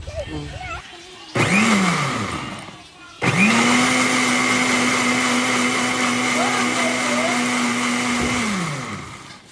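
A blender making mulberry juice whirs loudly in two bursts, a short spin followed by a longer steady run that winds down at the end, with faint voices around it.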